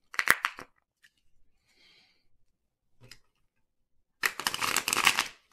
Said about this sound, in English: Let's do a full, big, thick shuffle here.